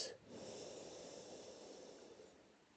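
One slow, deep breath during a gentle yoga stretch, lying face down, a soft airy exhale that fades gradually, faint and close with no talking.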